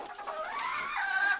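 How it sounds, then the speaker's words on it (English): A lemon blue rooster on a farm gives a single drawn-out, wavering crow-like call, close and clear, lasting about a second and a half with no talking. "That is actually our lemon blue rooster Sage."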